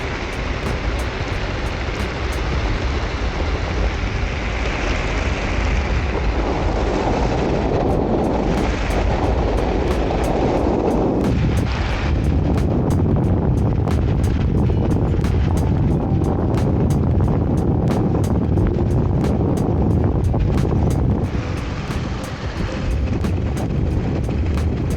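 An electric all-terrain skateboard rolls over rough asphalt, giving a loud, continuous rumbling roar of wheels and motor with sharp clicks and rattles scattered throughout and no talk.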